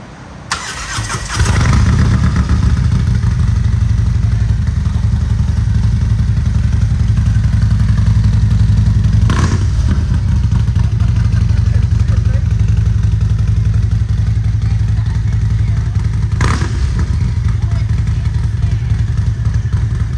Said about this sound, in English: go ahead and fire it up and snap the throttle a couple times and you'll notice a difference.